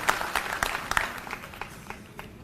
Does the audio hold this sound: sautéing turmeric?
no